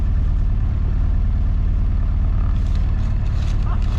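A classic Mini with single-point injection idles steadily nearby, a loud, continuous low engine rumble with an even pulsing rhythm and no break throughout.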